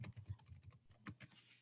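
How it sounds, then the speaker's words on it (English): Keys on a computer keyboard clatter in an irregular quick burst of taps while a comment is typed, soft and close with no talking. "And then I just type in my comment"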